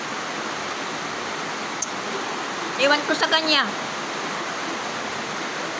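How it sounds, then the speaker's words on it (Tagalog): Steady rain falls outside, a constant hissing wash of drops and drips that continues throughout, with a brief snap partway in and a person speaking over it for a moment. "Kasi umulan nga."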